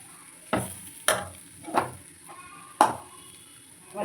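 Potatoes coated in chili powder fry in a pan for urulai kizhangu varuval, with about five distinct scraping stirs of a spatula over a soft, quiet sizzle in between.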